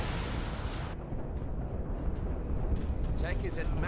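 A heavy rumbling blast from an autocannon in the Dawn of War 2 strategy game rolls into continuous loud battlefield noise, with scattered game voice chatter over it.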